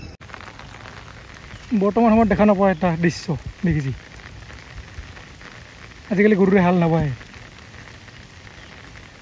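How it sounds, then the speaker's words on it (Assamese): Steady rain and wind on an evening outdoors near a tea garden, a constant even hiss in the background while someone talks in two short bursts. "পুৰা বৰষুণ দি আছে"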